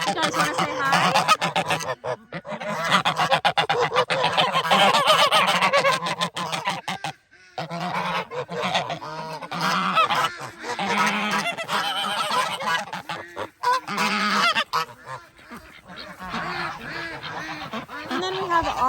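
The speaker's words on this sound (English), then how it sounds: "it's hard to speak over the geese right now." Rescued geese at a mountain farm animal sanctuary honking loudly and almost without pause, many overlapping close calls in ragged bursts, with a couple of brief lulls.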